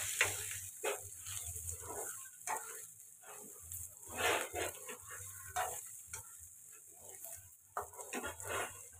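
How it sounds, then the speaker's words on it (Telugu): Chicken pieces fry for a chicken fry piece biryani, giving a steady, moderately close sizzle broken by scraping stirs and clinks in the pan, with no voices. "చికెన్ ఇలా ఫ్రై అవుతుంది కదండి"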